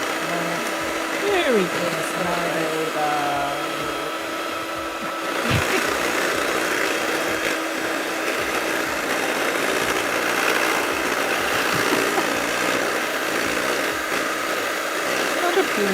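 A blender whirs continuously at close range, with a steady motor drone and shifting pitch, while a voice speaks briefly.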